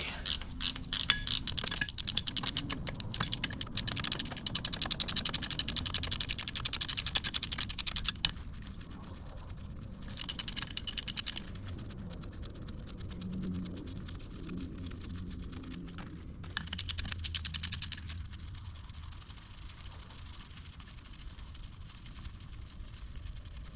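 Hand wrenches working bolts on a Mack truck rear end carrier in a shop, a long stretch of rapid ratcheting clicks and metallic mechanism noise, loud in bursts and then easing to a steady lower grind.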